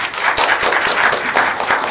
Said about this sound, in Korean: 오늘 나와주신 감독님께 큰 박수 부탁드립니다.